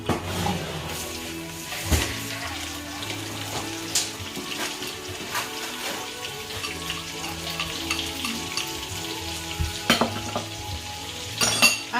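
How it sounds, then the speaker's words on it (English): Chopped onions frying in chicken fat for a chicken and sultana casserole, with a steady sizzle and occasional stirring scrapes and clinks close by, no talk. "So in that fat, I'm going to add my onions, my chopped onions."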